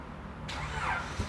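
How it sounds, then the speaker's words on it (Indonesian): A Honda Prelude's engine starter whirs and cranks briefly, then the motor catches with a rising rumble, close and fairly loud. "Khas ya, suara starternya Honda."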